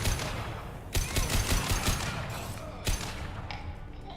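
Video game gunfire in sharp bursts, several loud shots in quick succession with a later single report, over a steady background rumble of game ambience.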